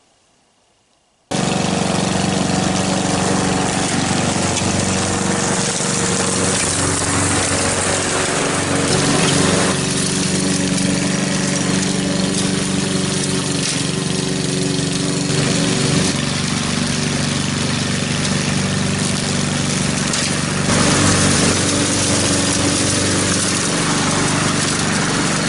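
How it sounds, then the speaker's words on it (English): A lawn mower engine starts and then runs loud and steady at close range, a constant drone holding for the rest of the stretch. "I think I'm going to fire up the lawnmower and get some of this mowed."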